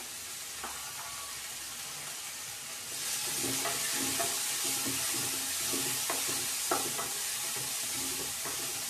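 Spices, turmeric powder and garam masala roasting in a hot pan, a soft sizzle that swells louder partway through, with repeated scraping stirs of a spoon against the pan.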